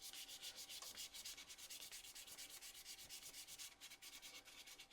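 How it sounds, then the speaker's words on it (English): Wood is hand-sanded along the grain with 220 grit sandpaper for a handmade mortar and pestle, a quiet rhythmic swishing of quick back-and-forth strokes, close and steady throughout. "Sand with the grain."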